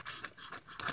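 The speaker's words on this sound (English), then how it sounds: "I'm gonna get my bigger scissor for this, because that little one doesn't want to cut." Large scissors snipping through a sheet of vellum, several crisp close cutting strokes in quick rhythm, quiet and alone.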